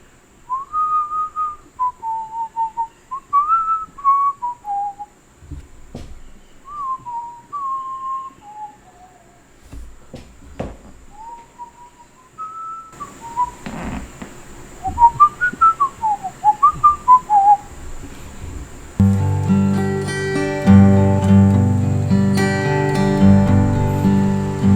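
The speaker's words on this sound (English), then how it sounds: "This is whistling." A person whistles a wandering melody into a Fifine K690 USB microphone, clear and close, in short rising and falling phrases separated by small clicks. Later a steady hiss appears, and in the last seconds a strummed guitar chord rings over it.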